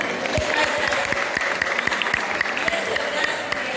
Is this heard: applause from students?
yes